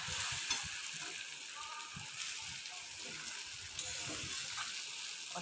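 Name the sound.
frying and stirring chicken in oil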